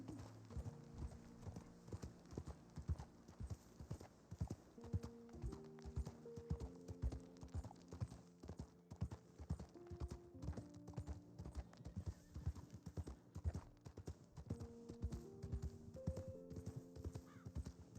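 A horse's hooves clip-clop in a quick, steady rhythm close by, with a brief whinny and other background sound throughout.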